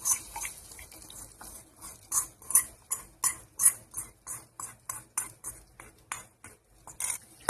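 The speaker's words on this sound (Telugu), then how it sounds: "టమాటా పచ్చట్లో కలిపేటప్పుడు ఈ పోపుని టమాటా పచ్చట్లో కలుపుకుందాం." A spoon stirs tempering into tomato pickle in a bowl with a rapid, regular series of close scraping and clinking strokes, steady in rhythm and moderately quiet.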